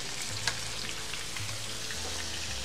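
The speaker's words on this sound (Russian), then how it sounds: "Обжариваем со всех сторон." Chicken legs frying on a saj pan over maximum heat, a steady close crackling sizzle filling the whole stretch with one brief sharper pop early on.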